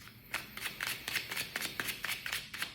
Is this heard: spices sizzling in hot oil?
no